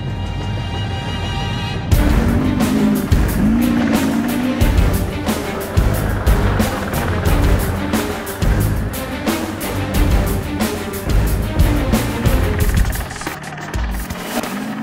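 A Dakar 2010 rally car rolls into the bivouac, its engine a loud, steady rumble with revving surges and mechanical clatter throughout, following a brief quieter stretch at the start.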